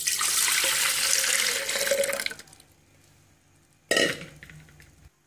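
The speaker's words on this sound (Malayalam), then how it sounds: "ഇനി ഇതിനകത്തോട്ട് പാൽ ഒഴിച്ചു കൊടുക്കാം" Milk poured into a 2-litre milk cooker, a steady liquid stream for about two seconds that tapers off, followed by a short splash after a pause.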